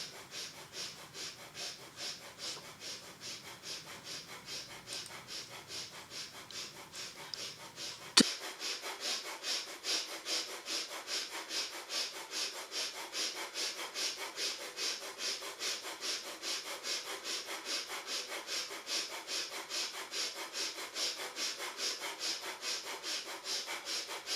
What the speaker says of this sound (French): vous pouvez alterner entre une respiration longue et profonde et une respiration du feu